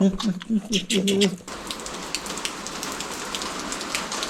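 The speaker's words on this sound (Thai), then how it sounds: "ฝนมาตกอีก" Rain falls steadily, a dense hiss of drops striking surfaces that fills the background throughout, after someone speaks briefly at the start.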